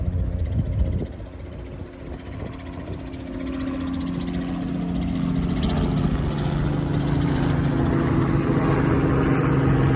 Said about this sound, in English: remember what I was telling you about the helicopters?